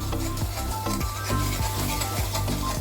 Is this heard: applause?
no